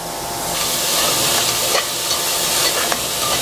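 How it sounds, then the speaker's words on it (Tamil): Tomatoes and onions sizzle in hot oil in a pot for a traditional village-style mutton curry, a steady close frying hiss with a few soft scrapes of stirring and no speech. "இதுலேயே தக்காளியை சேர்த்துருவோம். பாதி தான் சேர்க்குறேன், பாதி நம்ம தாளிக்கிறதுக்கு வச்சுக்கலாம்."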